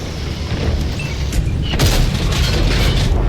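A tank shell fired at the player's tank in World of Tanks on console, a loud booming crack rising over dense rumbling engine and battle noise that stays heavy and continuous afterward.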